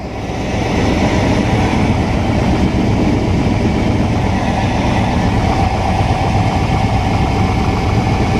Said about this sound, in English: That's an exhaust leak by the looks of it from back over there.